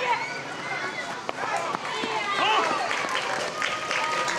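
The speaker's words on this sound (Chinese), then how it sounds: "这一记一垒刺杀让场边响起一阵欢呼。" Spectators cheer and clap at a youth Little League baseball exhibition game in Taipei between a Taiwanese elementary school team and Japan's Kanto team after a play at first base, a distant crowd swell beneath a news narrator's voice.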